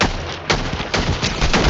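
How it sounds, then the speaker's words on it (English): Rapid gunfire in the video game Fortnite, loud repeated bursts in quick succession that dominate throughout. "Are you shooting me, Mysterio?"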